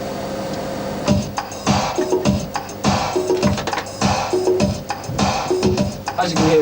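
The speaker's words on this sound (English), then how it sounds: "So we're now running at 102 BPM and the percussion sounds something like this." Programmed drum percussion loop at 102 BPM in a 1990 studio session: a heavily compressed bass drum, snare and clap hits with hi-hat, sounding in a steady, close, loud repeating pattern with no talk.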